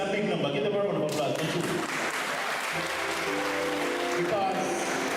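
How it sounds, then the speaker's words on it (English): Audience applause at a primary and infant school graduation, clapping that carries through the whole stretch alongside a voice speaking. "Get them a round of applause."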